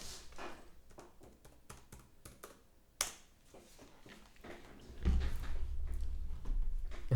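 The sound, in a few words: typing a password on a computer keyboard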